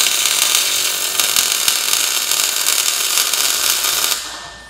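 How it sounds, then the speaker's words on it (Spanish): Steel plates being welded into a welding table, a loud continuous crackling hiss that holds steady for about four seconds and then cuts off abruptly. "vamos soldando por todo y repartiendo el calor"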